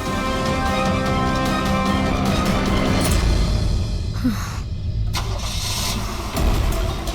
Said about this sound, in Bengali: স্যার মনে হচ্ছে খুনি গাড়ি নিয়ে পালিয়ে গেল।